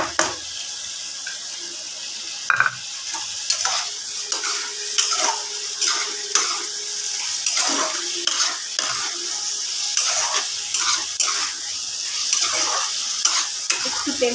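Fried potatoes are stirred in spiced oil in a pan for chicken curry, with a close sizzle and repeated scraping and clinking of a spoon against the pan.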